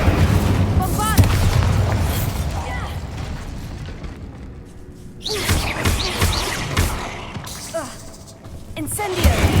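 Incendio and Bombarda spells in Hogwarts Legacy set off repeated booming blasts and fiery bursts amid a chaotic fight, with clanking and crashes between them and a voice talking at times.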